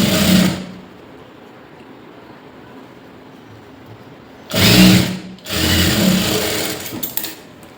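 A sewing machine stitches a lined blouse in two bursts: a short run at the start, then after a long quiet pause two closer runs near the end, with no talking.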